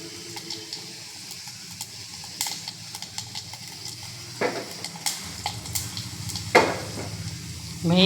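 Mustard seeds, cumin, a pinch of asafoetida and a dry red chili crackle and sizzle in hot oil for a Telugu-style tempering, a steady soft frying hiss broken by small pops and a couple of sharper utensil clinks.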